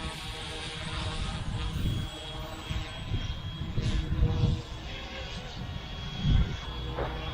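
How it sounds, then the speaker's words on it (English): An RTRhobby F07 RC aircraft's electric motor spins up and throttles for takeoff outdoors on a windy afternoon, a continuous whine over rumbling wind gusts, moderately loud and fairly close. "now to take off, 2 sticks down and out, and the motor starts up. So to take off, just throttle up."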